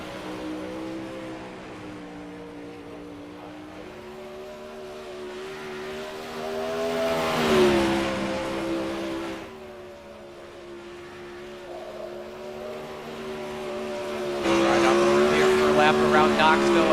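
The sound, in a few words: race cars on track during 360 sprint car qualifying at Knoxville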